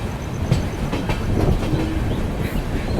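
Haripriya Express passenger train running on the Kolhapur–Tirupati route through the Western Ghats in heavy rain, a steady loud rumble with rhythmic clickety-clack of wheels on rail joints, continuous and close.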